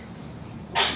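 A single short, sharp sneeze bursts out near the end, close and fairly loud, in a courtroom during a criminal trial over a quiet background hum.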